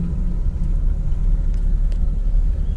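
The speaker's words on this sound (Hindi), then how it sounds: "ये देखिए गाइज, अपनी गाड़ी अभी धीरे धीरे आगे बढ़ रही है।" A Maruti Omni car creeps forward slowly, its low engine rumble steady and close, with a few faint clicks and no talking.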